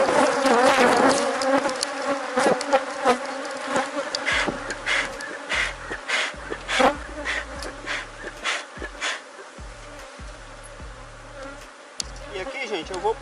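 Honey bees buzz around an opened frame lifted from a small apiary hive, a dense close drone with loud swelling passes of single bees darting near, continuing throughout.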